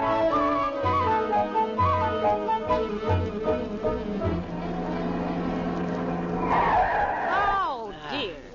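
A car skids to a stop on worn brakes as a radio sound effect in a 1947 comedy radio show, with a rising and falling screech in the last two seconds after a steady tonal passage.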